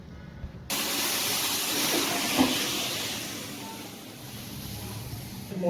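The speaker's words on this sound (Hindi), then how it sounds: "तो अब हम इस तड़के को डाल देंगे हलीम वाली देग में।" A sudden loud sizzling hiss erupts as hot oil tempering hits the pot of haleem, then holds as a steady bubbling sizzle, close and continuous.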